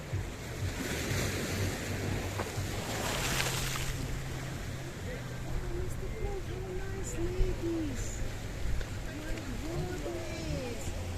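Wind blowing along the Paphos coastline in Cyprus on a very windy evening, with a steady broadband rush of surf and gusts against the microphone. Voices can be heard faintly in the background throughout.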